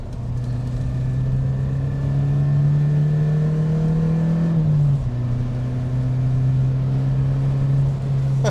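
A Porsche 944's engine drones steadily, then dips and settles as the driver downshifts into third for a corner on a road; the interior engine tone stays loud and continuous throughout, with no talking.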